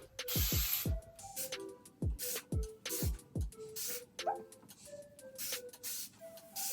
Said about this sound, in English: I'm gonna take this spray bottle and basically just spray my edges.